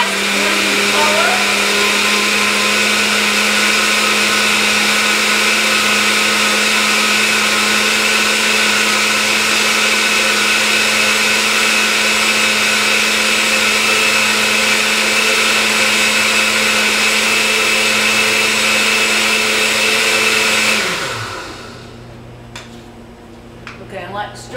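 Countertop blender pulverizing a green kale smoothie, a loud steady whir running continuously for about twenty seconds before the motor winds down and stops, followed by faint clinks.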